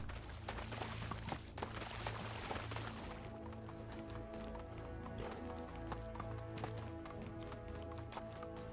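A horse gallops in the medieval survival game Medieval Dynasty, its rhythmic hoofbeats loud and continuous over a low ambient background, with a brief whinny-like tone mixed in.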